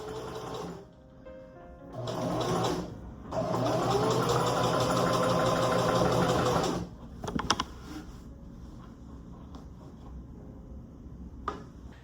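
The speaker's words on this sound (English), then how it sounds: "is just stitching down that inside layer to finish off those edges" A sewing machine stitches down the inside layer of fabric on an elf outfit in two long runs of fast, even whirring, with brief mechanical clicks and quiet gaps between bursts; no voices.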